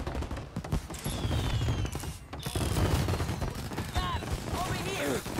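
Tommy gun fire breaks out during a shootout in the video game Mafia Definitive Edition, with dense rapid bursts of automatic fire and scattered shots continuing throughout, loud and close amid game sounds and speech.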